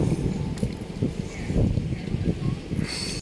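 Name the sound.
strong wind on a boat trip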